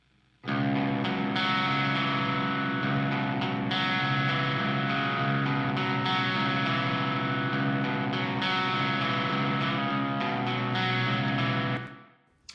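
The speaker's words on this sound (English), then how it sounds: "you're hearing this guitar going into these two amps here" Electric guitar through a Mayflower pedal into two amps plays a thick, sustained overdriven passage, dense and steady for about twelve seconds before cutting off cleanly.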